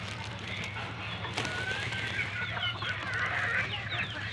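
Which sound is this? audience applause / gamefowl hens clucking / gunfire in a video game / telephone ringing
gamefowl hens clucking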